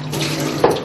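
Tap water splashing and pouring steadily onto hands for washing, a near, continuous rush with a brief louder splash near the end, in a Dubovka home without running water.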